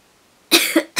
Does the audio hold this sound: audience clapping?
no